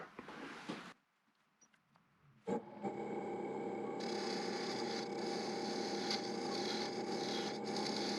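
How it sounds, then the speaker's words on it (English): A dovetail tool cuts into wood on a lathe, starting with a short scrape, then a pause with near silence, then a steady, close, rasping hiss as the cut continues evenly. "I need a dovetail for those jaws, so I'm going to use a dovetail tool"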